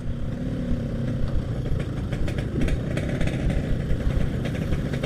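A motorcycle engine running loud and close on a Jakarta street, its rumble holding steady with small surges as the rider gives it throttle.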